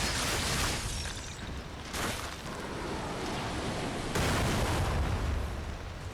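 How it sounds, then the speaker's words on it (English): Cannons fire shells in the Lies of P video game, a series of heavy booming blasts over a steady roar like surf, loud and close, with no voices. "they're literally shooting cannons at us"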